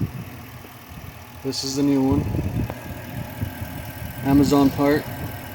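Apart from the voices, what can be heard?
2000 Toyota Tundra engine idling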